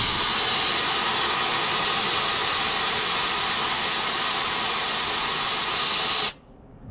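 Pressurised coolant released from a fitting in a loud, steady, close hiss that holds for about six seconds and then cuts off abruptly, leaving a quiet background.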